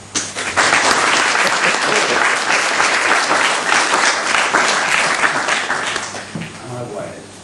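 An audience at a talk on an Anglo-Saxon battle bursts into warm, dense applause to welcome a speaker, sustained and full for several seconds before thinning out and fading, with a voice emerging as it dies down.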